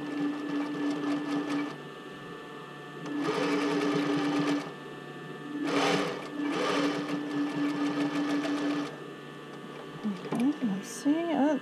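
Sewing machine stitching bra cup fabric, running in several loud close bursts of rapid mechanical stitching separated by short pauses, with a brief voice near the end.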